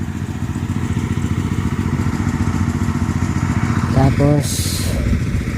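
A small water-pump engine runs steadily on a farm plot while irrigating soil, a continuous close mechanical drone with a couple of brief knocks near the end, and someone speaks briefly over it.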